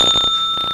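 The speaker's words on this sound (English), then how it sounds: "As soon as you ring the bell" A service bell at a haunted house attraction gives a single bright, ringing ding that sustains clearly and loudly through the short moment, with nothing else around it.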